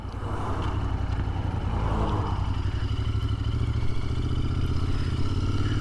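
Royal Enfield Continental GT 650 motorcycle being ridden in to park, a steady close engine rumble with mechanical clatter, fairly loud and alone without talk.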